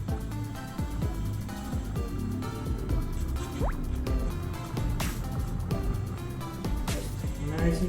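Water is poured into a bottle in close, bubbling glugs and drips with rising gurgles as it fills, with a voice speaking over it.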